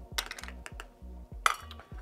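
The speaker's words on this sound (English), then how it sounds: "Give it a bit of a stir." A spoon clinks and scrapes against a cup as household bleach is stirred into water, a quick series of light metallic taps and rattles with a low rhythmic thumping beneath, no talking.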